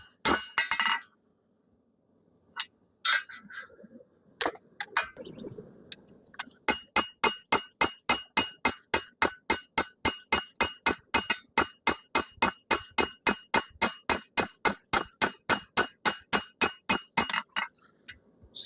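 A hammer strikes a chef knife on a hot anvil, first a few scattered ringing blows, then a long, fast, even run of bright metallic clinks, close and loud.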